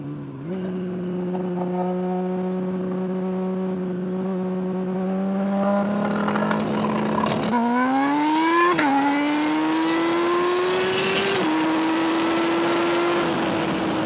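A Suzuki Hayabusa motorcycle accelerates hard, its engine note climbing steadily through several gears with brief dips at each shift, loud and close throughout without talk.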